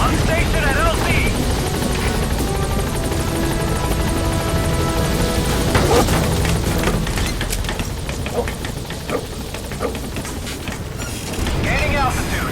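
The B-Quad support helicopter in Metal Gear Solid V arrives at a landing zone, its rotor roar steady and loud throughout with rushing wind, while a radio voice speaks over it.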